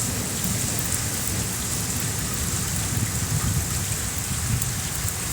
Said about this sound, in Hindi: वातावरण में देखिए भयंकर तूफान, बारिश